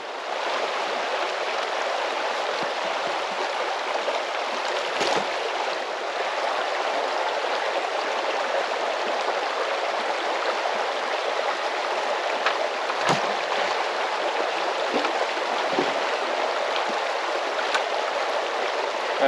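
Steady rushing water from a flowing stream fills the whole stretch, a constant broadband wash with occasional soft knocks, as a pump pickup line is put into the water.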